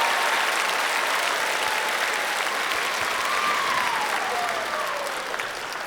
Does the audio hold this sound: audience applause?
yes